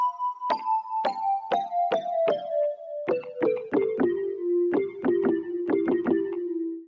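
Layered mallet preset built from several stacked samples in the Waves Cr8 sampler, played as a descending run of about twenty bright struck notes, each with a percussive knock at the attack and a quick ringing decay.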